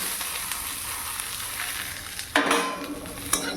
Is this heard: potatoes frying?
yes